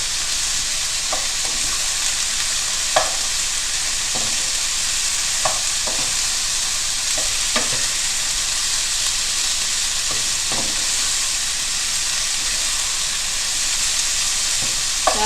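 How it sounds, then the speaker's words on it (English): Steady loud sizzling of food stir-frying in a hot wok, with scattered clinks and scrapes of a utensil tossing it, continuous and close. "move that around your wok or your frying pan"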